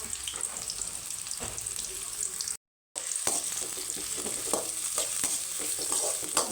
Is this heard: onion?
yes